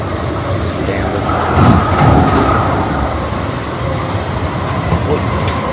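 Rumbling ride aboard a passenger train, a loud continuous low roar with rattling and faint clatter, swelling briefly midway, with no clear talking.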